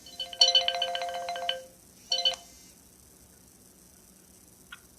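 A phone rings with an incoming call: a bright electronic ringtone plays in a long burst followed by a short second one, fairly close, then fades to quiet with a faint blip at the end.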